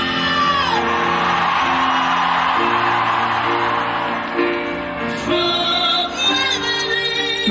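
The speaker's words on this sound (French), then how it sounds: "celui-ci se contente de crier « Oups !»" A concert crowd at Japan Expo shouts and whoops together in a sustained, loud mass of voices over stage sound, with a couple of swells as the yelling rises again.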